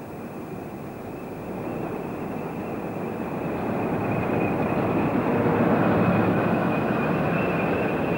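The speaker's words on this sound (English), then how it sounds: "This Class 40 is heading north with yet another rake of steel wagons." A Class 40 diesel locomotive hauling a rake of steel wagons northward, a steady rumbling roar of engine and rolling wagons that grows slightly louder as it nears, with no voices.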